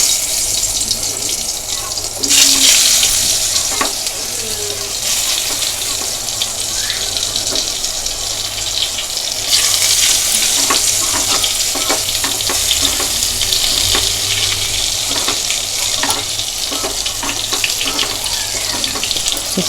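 Stuffed ridge gourd pieces fry in oil in a pan over low heat, giving a steady hiss and crackle with occasional louder bursts, and someone talks over it now and then.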